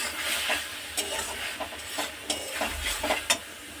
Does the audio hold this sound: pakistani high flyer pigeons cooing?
no